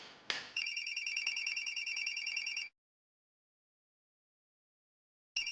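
A telephone rings in a tense crime-drama scene: a steady, bright electronic ring lasts about two seconds, falls silent, then starts again at the end.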